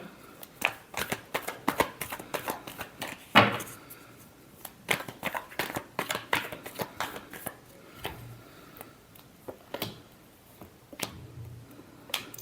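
Tarot cards are shuffled by hand in a long run of quick riffling bursts and taps, close and fairly quiet, with no voices.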